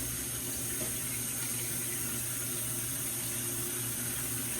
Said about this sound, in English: I think I'll wash my glasses.